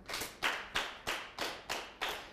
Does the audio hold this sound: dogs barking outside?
no